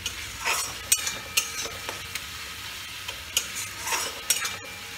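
Masala for a snakehead fish curry is stir-fried (kosha) in a pan: soft sizzling broken by repeated sharp scrapes and clinks of a spatula against the metal, up close, with no talk.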